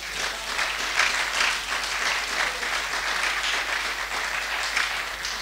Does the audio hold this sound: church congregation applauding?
yes